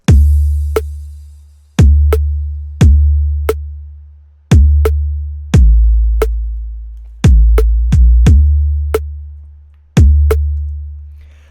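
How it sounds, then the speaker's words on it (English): Kick and snare of a hip-hop beat played alone: deep, decaying kick thumps alternate with crisp snare cracks in a slow, steady loop, every hit loud and close. "So just the kick and the snare sound like this."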